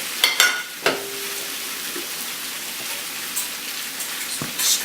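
Pappardelle pomodoro is tossed with olive oil in a hot pan, crackling and sizzling steadily, with a few sharp clanks of utensil on pan at the start and a brief rattle near the end.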